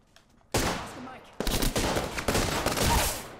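In Apex Legends, burst-fire weapon shots crack out after a quiet start: one loud burst, a brief pause, then sustained rapid fire of closely spaced shots that continues to the end.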